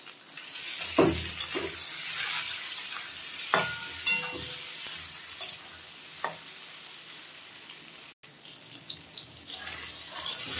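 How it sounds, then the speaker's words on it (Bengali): Soybean chunks and potatoes fry in a pan with a steady sizzle, broken by several sharp stirring clatters, and there is a short break near the end. "সয়াবিন গুলো ভাজা ভাজা হয়ে গেছে।"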